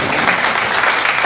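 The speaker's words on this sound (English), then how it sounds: "You can clap at that." Thick, continuous clapping from a DevOpsDays Chicago 2018 conference audience, loud and close, filling the short moment with no break.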